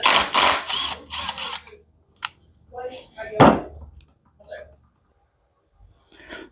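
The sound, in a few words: removing valve cover from 2003 Robin engine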